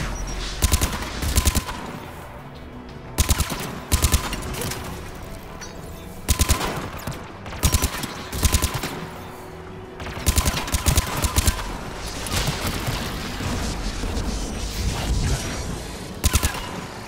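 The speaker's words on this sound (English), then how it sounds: "Let's go shut that AA gun off." A Mass Effect 3 anti-aircraft gun fires in loud, regular bursts of rapid shots every second or two, pounding over a steady background rumble.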